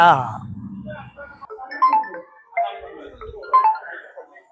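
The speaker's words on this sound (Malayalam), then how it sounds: "എന്താണ് ഫോൺ എടുക്കാത്ര താമസം?" A mobile phone ringtone plays a short melody of repeated tonal notes indoors in a comedy skit, moderately loud after a brief voice at the start.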